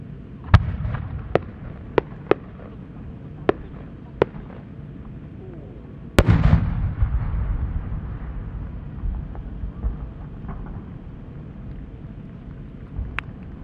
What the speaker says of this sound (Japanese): 三重新変化スパンコール、宮城県花賀港花火師石村よしえ。